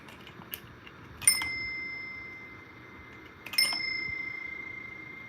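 A Westinghouse metal flange struck twice, each hit giving a bright bicycle-bell ring with a sustained tone that slowly fades, close and clear over a quiet background.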